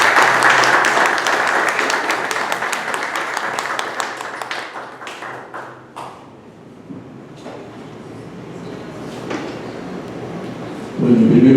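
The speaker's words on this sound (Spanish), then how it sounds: "les pido en verdad un fuerte aplauso para él" Applause from a crowd, dense clapping at first that thins and fades over several seconds, with a few scattered claps and murmurs afterward.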